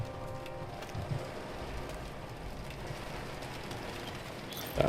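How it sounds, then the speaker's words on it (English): Heavy rain pours steadily in the survival game This War of Mine, a dense, even wash of rainfall with a low rumbling undertone, no voices. "It is raining awfully hard."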